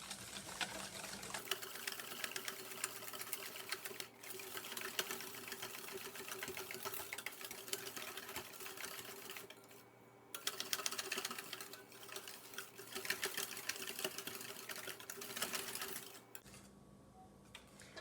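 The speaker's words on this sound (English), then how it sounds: "I'm just going to give it another whisk for about 1 more minute." Vegan chocolate cookie batter is whisked in a bowl, a fast busy rattling and scraping that runs continuously, pausing briefly twice and then resuming, with no talk.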